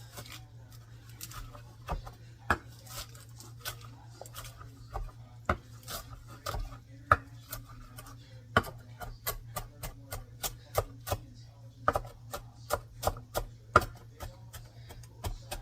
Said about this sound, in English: So I'm just going to chop these up into kind of diced sized pieces.